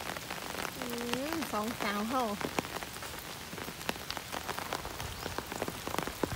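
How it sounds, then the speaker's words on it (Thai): Steady rain patters on a surface with sharp drips throughout, while a person speaks briefly near the start. "วันนี้ฝนก็ตกนะคะ"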